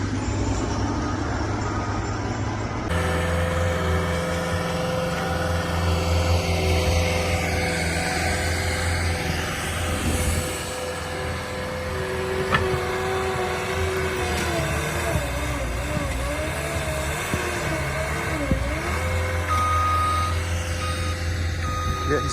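Heavy trucks rumble and idle nearby at a Mammoth work site in 2023, with repeated reversing beeps sounding over the steady diesel drone, brief shifts in engine pitch as they move, and a faint voice in the background.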